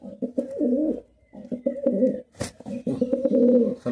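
Giribaz pigeons cooing close by, a series of soft throaty rolling coos in several bursts with brief pauses, plus a single sharp flutter or click midway.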